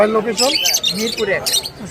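Parrots and mynas at a bird market in Mirpur 1, Dhaka, give harsh, repeated squawks close by, mixed with bustle and voices.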